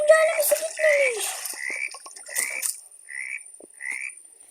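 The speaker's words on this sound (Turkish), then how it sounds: "Kurbağa!" A cartoonish frog croaks in the forest survival game 99 Nights in the Forest, a run of short croaks that repeat close up and fairly loud, with a voice chattering over parts of it.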